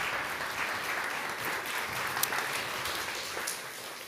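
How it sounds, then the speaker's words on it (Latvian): Conference audience applauding steadily throughout, a dense, even wash of clapping from a hall crowd with no pauses. "Aplaus Dagnim!"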